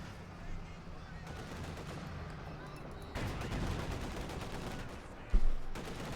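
G43 rifle fire in the World War II strategy game Company of Heroes 2, with bursts of gunfire and distant battle noise in a dense, steady mix and one sharper shot near the end.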